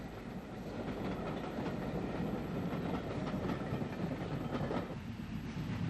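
A steam tank locomotive running bunker first rumbles steadily past at moderate distance hauling a train, wheels clattering over rail joints beneath a low, continuous drone.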